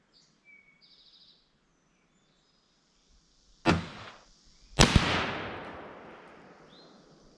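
Two loud, sharp rifle shots from a 1943 Remington 03-A3 chambered in 30-06 crack out over a quiet outdoor background with faint birdsong, and each report trails off into a long, rolling echo.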